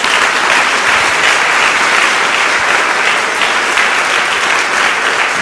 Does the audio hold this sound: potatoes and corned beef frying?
no